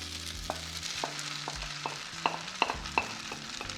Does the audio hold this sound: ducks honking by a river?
no